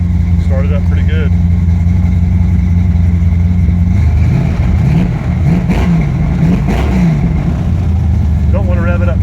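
A 1977 Datsun 280Z with a swapped-in V8 idles with a deep, steady rumble, then rises in a couple of moderate revs before settling back, while someone talks over it close by.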